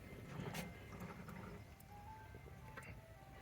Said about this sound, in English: Oh boy, here comes the ice cream truck.